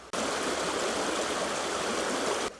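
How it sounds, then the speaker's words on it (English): A local creek flows steadily over rocks, a dense, continuous rush of water close by with no voices, holding constant loudness before cutting off abruptly. "I'm out here at my local creek"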